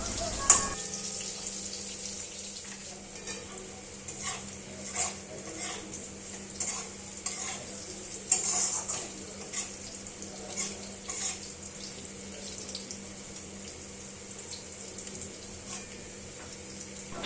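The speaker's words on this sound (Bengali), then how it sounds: "গরম তেলে এপিট ওপিট করে সয়াবিনগুলো সুন্দর করে ভেজে নেব।" Soybean chunks frying in hot oil, a faint steady sizzle with repeated light scrapes and clinks of a utensil turning them in the pan, close by and without speech.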